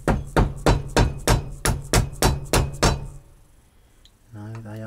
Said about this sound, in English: and the rubber hammer